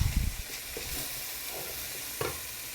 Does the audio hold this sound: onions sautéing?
yes